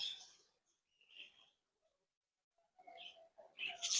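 Budgerigars chirping up close in short bright bursts separated by quiet gaps, with a busier cluster of calls toward the end.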